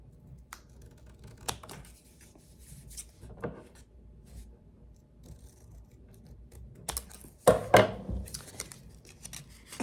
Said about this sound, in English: So I'm going to cut down each side of the envelope.